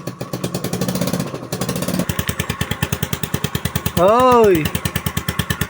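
A Rusi Gala 125 scooter that smokes and burns oil runs close by with a rapid, even putter. Someone briefly revs it into a rising and falling whine. Someone speaks at the start and says a short word later.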